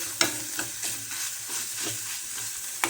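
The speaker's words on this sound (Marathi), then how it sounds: "छान भाजू द्यायचं कांदा आणि वाटण तेलामध्ये." Onion and ground spice paste sizzle softly in oil while a spoon stirs and scrapes the pan in a regular rhythm, with a few sharper clinks.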